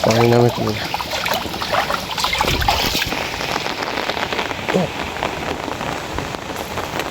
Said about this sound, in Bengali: আবার বৃষ্টি আসছে প্রচুর বৃষ্টি হবে এখন